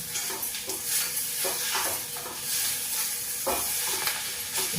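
Curry leaves hit hot oil in a pan while a mushroom and potato mixed curry is being made, a loud, close, continuous sizzle and hiss with a few stirring scrapes.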